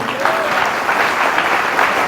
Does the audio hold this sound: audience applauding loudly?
yes